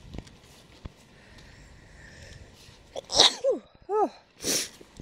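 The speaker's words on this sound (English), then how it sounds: "I gotta sneeze again" After a quiet moment, a person gives a loud sneeze, followed by a couple of short breathy, wheezing vocal sounds and another sharp exhale.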